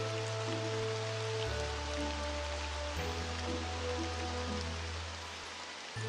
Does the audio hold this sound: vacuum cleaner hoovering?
no